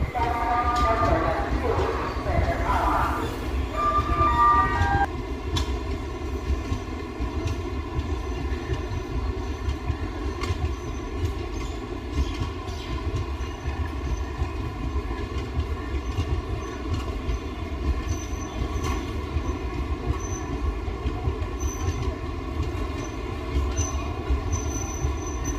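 Passenger train running on rails over a long route, a steady loud rumble of wheels with sustained tonal hum and rhythmic clatter; a brief higher squeal or horn-like tone early on, then continuous rolling noise.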